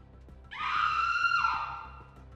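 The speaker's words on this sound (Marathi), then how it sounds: "इकडे सरूने तिला पडताना बघितलं तसं ती घाबरून मोठ्याने ओरडली" A woman lets out a single loud, sustained scream of fear, rising sharply and holding for about a second before trailing off, with no talk around it.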